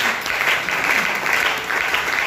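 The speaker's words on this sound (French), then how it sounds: "on acclame Dieu" A church congregation at a fasting and prayer service claps together to acclaim God, steady loud applause rising and falling in waves, with no clear talk over it.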